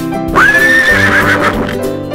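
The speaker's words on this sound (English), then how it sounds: "Horse." A horse whinnies once, a loud rising then wavering neigh that lasts about a second and a half before trailing off, heard alone with no talk.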